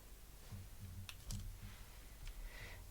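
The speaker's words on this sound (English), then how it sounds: "you punch the letter into the tape, and it kind of like embosses it into" An old-fashioned twist-dial label maker embosses letters into tape, giving a few soft, close clicks spaced unevenly over a low background hum.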